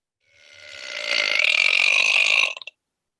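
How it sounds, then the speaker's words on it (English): A single long, loud burp swells up and holds for about two seconds, then breaks off in a few quick stuttering bursts, close and alone. "It was the biggest burp I'd ever heard."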